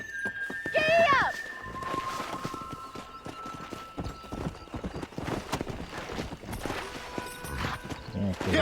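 Hooves clip-clop rhythmically as a horse gallops in Red Dead Redemption on Xbox 360, opening with a loud whinny and running steadily beneath game music and a voice.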